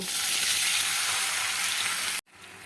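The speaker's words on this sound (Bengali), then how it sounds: "এখন আমি পেঁয়াজের মধ্যে জল দিয়ে দেব" Onions frying in a pan over medium heat hiss loudly as water is poured in, a steady close sizzle that stops abruptly near the end, leaving quieter bubbling.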